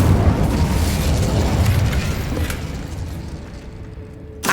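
Incendio fire spell from Hogwarts Legacy, a loud booming blast with a roaring, rumbling fiery burst that slowly fades over several seconds before a fresh sharp burst at the very end.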